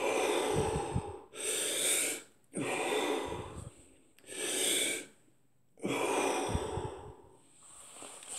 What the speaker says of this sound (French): On inspire bien.